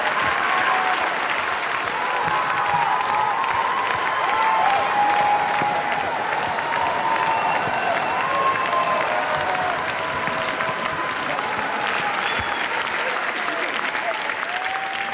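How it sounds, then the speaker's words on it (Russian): Sustained, dense audience applause fills a circus arena after a juggling act, loud and steady throughout, with faint voices and crowd noise mixed in beneath the clapping. "Вот за аплодисменты, друзья!"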